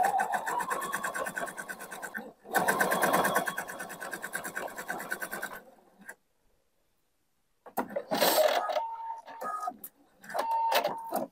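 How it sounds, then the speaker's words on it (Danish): A sewing machine topstitching jersey fabric, running in steady bursts of fast, even stitching with a brief pause and a short silence between runs, close and clear. "Sådan lige 2-3 mm fra sømmen kører jeg en fin stikning på jersey-siden her"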